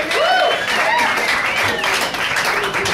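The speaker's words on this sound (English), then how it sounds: "I just like being on stage while people are clapping" Open-mic audience at Cafe Diem applauding a comedian named Joe: steady, loud clapping from a small crowd throughout, with whoops and cheers rising over it and voices mixed in.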